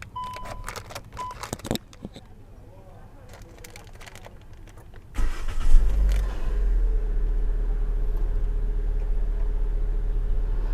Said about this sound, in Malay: Okey, kita start dulu kereta ni.